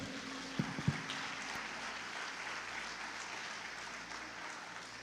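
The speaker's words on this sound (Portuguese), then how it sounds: "Pode aplaudir Jesus." Applause from a church congregation, a steady wash of clapping at moderate distance that continues evenly throughout, with a couple of louder claps near the start.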